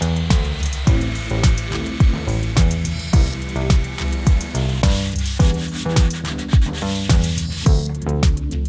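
Steady rhythmic sanding on wood, repeated back-and-forth strokes roughly every half second, close and fairly loud with no talking.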